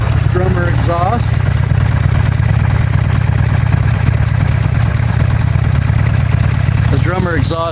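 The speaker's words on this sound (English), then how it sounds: "The drummer exhaust makes it sound like a Harley" A Buell Ulysses XB12X motorcycle with a Drummer aftermarket exhaust idles with a deep, loud, throbbing exhaust rumble that stays steady throughout, while a person talks briefly at the start and end.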